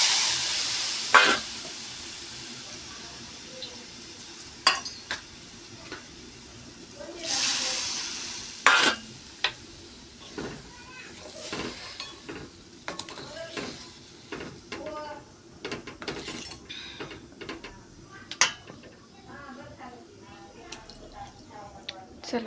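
Brinjal curry in a pan gets stirred after water goes in, with a burst of hissing sizzle followed by scattered scraping and clinking stirs and soft bubbling, while someone talks throughout.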